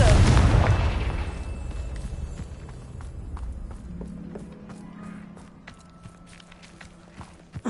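A Confringo blasting spell in Hogwarts Legacy erupts in a loud, booming burst at the start, then rumbles and fades into quieter game ambience with scattered light footstep-like ticks.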